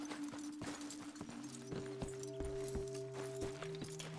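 Horse hooves clip-clopping in the video game Red Dead Redemption 2, a steady walking rhythm of clear hoof strikes over a low musical drone.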